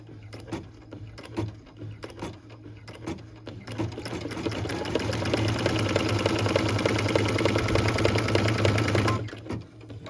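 A sewing machine stitches a Tidings of Comfort and Joy Christmas ornament, its close, steady motor whirring with a rapid stitching rhythm that builds into a longer continuous run before stopping near the end, with no talking.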